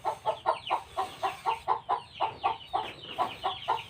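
Chickens clucking noisily in a rapid, steady rhythm of repeated calls, close and loud, with no talk, while they are given feed at a rural home.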